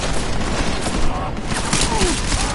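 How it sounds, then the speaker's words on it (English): Gunfire in the video game Deus Ex: Mankind Divided, a dense continuous barrage of shots at steady loudness throughout, with voices talking over the shooting. "Keep shooting!"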